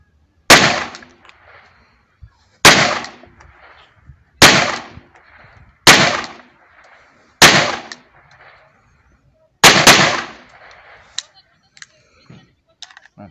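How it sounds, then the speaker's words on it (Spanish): Six sharp, loud test shots from a Zoraki 917B 9mm PA blank pistol, fired outdoors one at a time at spaced intervals of about two seconds, each a close crack with a short decaying tail, with faint voices in the gaps. "Entonces vamos a hacer los 5 tiritos de prueba."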